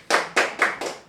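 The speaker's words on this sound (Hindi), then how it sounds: "क्या बात है, जोरदार तालियां।" Hands clap in a slow, deliberate rhythm, five crisp separate claps close by, spaced about a quarter second apart, from an audience at a Hindi talk show.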